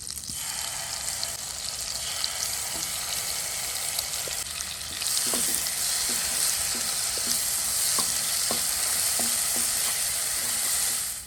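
Chicken masala fries in melted butter in a pan with a steady loud sizzle and hiss, and a spoon clicks and scrapes against the pan in a regular rhythm as it is stirred.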